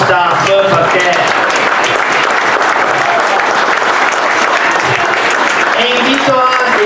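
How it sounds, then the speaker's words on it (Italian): Loud, dense audience applause at a gala, thanking the event staff, filling the hall steadily from start to finish with some crowd noise mixed in. "io vi chiedo veramente l'ultimo applauso rivolto al nostro staff"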